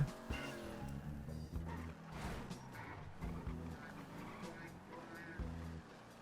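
In GTA roleplay, a tuned-up car the driver struggles to control skids with wavering engine roar and tyre squeal in bursts, while someone talks over it.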